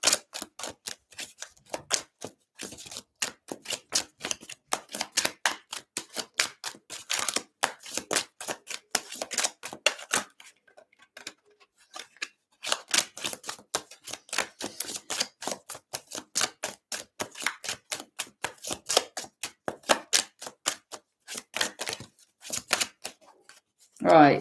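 Tarot cards are shuffled from a deck in a steady run of quick, crisp riffling clicks, pausing briefly partway through before resuming, close and fairly quiet.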